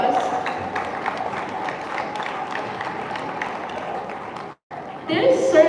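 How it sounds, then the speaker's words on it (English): A crowded hall erupts in loud, sustained audience applause during a school annual day, the clapping and cheering continuous for several seconds before a brief break and a renewed burst. "Let's give them a huge applause."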